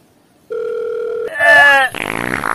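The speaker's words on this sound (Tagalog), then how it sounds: "Ay, tingog mo cellphone" A cellphone rings: a steady electronic tone gives way to a warbling melodic ringtone, followed by a rougher, noisier stretch, all close and fairly loud.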